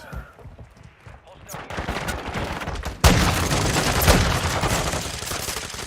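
Gunshots in the Modern Warfare II game, a sharp loud report followed by a sustained dense burst of rapid fire, close and continuous, with a voice talking in the background.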